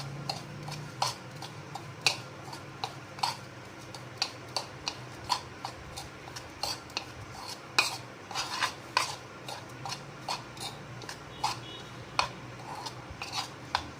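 Spoon clinking and scraping against a bowl as spices for a stuffed okra (bharwa bhindi) filling are mixed, a steady run of light, close taps and scrapes with no talking.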